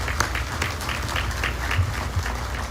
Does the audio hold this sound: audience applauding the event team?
yes